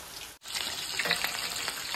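Chicken lollipops deep-fry in hot oil on a high flame, a close, continuous crackling sizzle with bubbling bursts, broken by a brief silent gap near the start.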